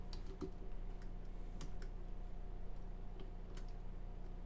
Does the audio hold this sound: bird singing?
no